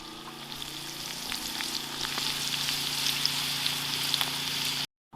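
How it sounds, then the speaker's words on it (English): Steak, potatoes and green beans sizzle and fry together for a camp dinner, a steady close crackle with scattered sharp pops that runs throughout, with no talking, before cutting off abruptly near the end. "Everything else is sizzling away."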